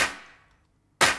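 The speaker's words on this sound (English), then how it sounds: "this clap sound is a bit warmer sounding" Two warm clap samples programmed in FL Studio, each a sharp snap with a short decaying tail, separated by a brief silence and heard alone.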